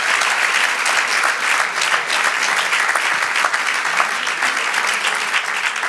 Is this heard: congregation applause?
yes